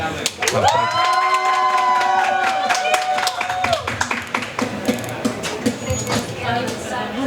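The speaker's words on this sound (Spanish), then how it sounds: "reciban con un fuerte aplauso a Daniel" An audience at a storytelling event at a book fair breaks into applause to welcome a performer, with a sustained musical tone and voices over scattered, fading claps.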